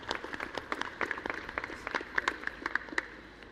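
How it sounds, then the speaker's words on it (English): Conference audience at a Julia programming talk clapping for a departing speaker, a moderate scatter of distinct individual claps that keeps going for a few seconds and grows slightly stronger near the end. "Extra round of applause"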